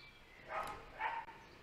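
A dog barks twice, with a short gap between the barks, somewhat distant and muffled against a low background hiss.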